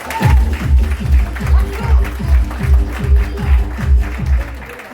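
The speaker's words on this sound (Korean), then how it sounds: "누가 나올 때는 선진국에서는 박수를 치게 돼 있습니다." Steady rhythmic clapping from a crowd at a reserve officers' association general meeting, beating in an even pulse of about two claps per second, loud and close, as someone is called to the stage.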